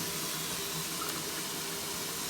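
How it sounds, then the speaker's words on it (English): A cheap faucet water filter from Home Depot runs tap water into a kitchen sink in a steady, loud, close hiss and splash, with no voices over it. "And then you turn on your water. I let my water run really cold."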